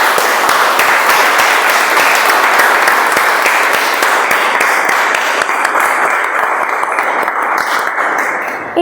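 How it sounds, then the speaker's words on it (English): A large audience at a multilingual community meeting gives a sustained round of applause, a loud, thick wash of clapping that holds steady and then thins slightly toward the end. "can we have a salute and a huge round of applause for all those amazing people"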